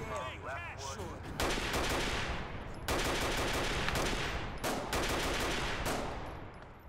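Enemies open fire in the Mirror's Edge video game, with loud overlapping gunfire bursts arriving in several sustained volleys after an opening stretch of other game sounds.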